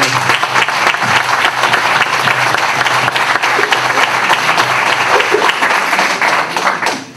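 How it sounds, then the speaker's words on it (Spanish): A crowd at a gathering breaks into dense, sustained applause, a loud wash of many hands clapping together for several seconds before it tapers off at the end. "Un fuerte aplauso para el padre."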